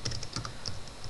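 Quick, light keystrokes on a computer keyboard as a web address is typed, a short burst of soft clicks close by with no talk.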